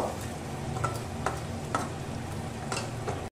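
Fried paneer being stirred into a pan with a low sizzle and periodic scraping strokes of a spatula at a steady rhythm, close by, ending in an abrupt cut.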